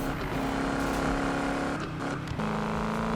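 A hot rod engine in Need For Speed 2015 drones steadily and loud, holding a constant pitch, briefly dipping as if shifting or easing off, then settling at a slightly lower tone.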